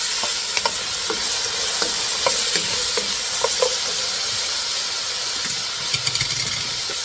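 Mushrooms fry in oil in a pan as a side dish for Korean beef bulgogi, giving a steady, close sizzle with small popping crackles throughout.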